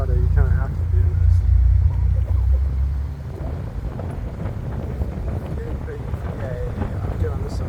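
Mazda Miata engine and road noise while cruising around a park, a steady low rumble with heavy wind buffeting on the microphone, louder for the first three seconds and then settling, with voices talking over it.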